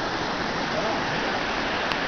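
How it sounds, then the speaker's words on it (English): Steady broadband rush of creek water flowing over rocks at Dunkard Creek, continuous and fairly close, with people wading in it and no clear voices. "They're all wading into the creek."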